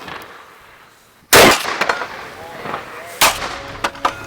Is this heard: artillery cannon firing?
yes